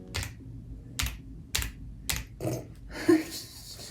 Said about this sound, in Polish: Moja pisze jak stara babcia na kompie.